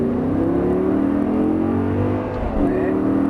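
A car engine roars and climbs in pitch as it accelerates hard, steady and close, with a brief dip before revving up again.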